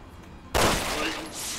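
A single sharp gunshot from Resident Evil 6 gameplay bursts in loud and close after a quiet moment, followed by a sustained rumbling, echoing tail.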